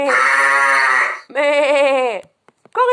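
A sheep bleats loudly and close by, giving one long cry and then a second shorter, wavering one, each followed by a short pause.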